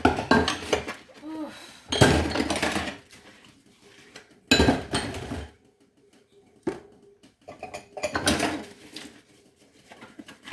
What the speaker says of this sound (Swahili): Tunaosha vyombo